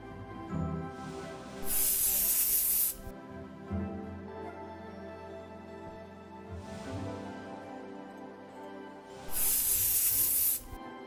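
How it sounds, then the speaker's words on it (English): Spray bottle misting a plant inside the Escape Simulator video game, three long, bright hissing sprays a few seconds apart, each lasting about a second, over a low steady game background hum. "I was trying to spray the plant"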